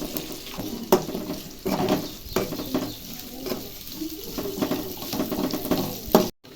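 Onions frying in hot oil as they are stirred in a pan for chicken biryani: a steady sizzle broken by repeated scraping stirs and a few sharp clinks of the spoon, close up, with no talking.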